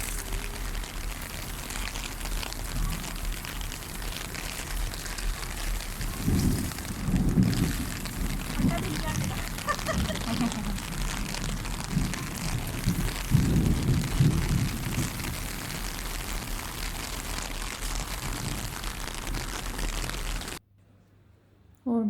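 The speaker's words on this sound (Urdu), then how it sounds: "بس اللہ کرے یہ رحمت کی بارش ہے۔" Steady rain falls with low rumbles of thunder during Hajj in 2019, a constant wash of rain with heavier rolling swells partway through, then a sudden cut to near silence.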